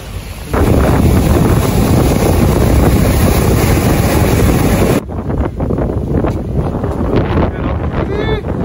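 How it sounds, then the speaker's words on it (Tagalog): Strong wind blows by the sea, roaring steadily across the microphone with a heavy gust for several seconds, then easing slightly but continuing under faint voices. "Grabe, sobrang lakas ng hangin."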